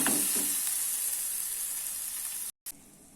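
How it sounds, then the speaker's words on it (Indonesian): Ground spice paste sizzling steadily in a tablespoon of hot oil as it is stir-fried for bakso soup, a bright continuous hiss that briefly cuts out near the end. "Kita tumis bumbu yang sudah dihaluskan sampai harum baunya ya."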